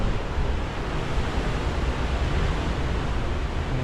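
Rough sea in force 8 winds on the rocky coast at Migra l-Ferha, Malta, with waves around two metres, making a dense continuous roar of surf and wind buffeting the microphone, loud and close throughout with no voices.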